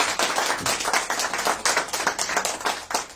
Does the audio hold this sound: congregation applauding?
yes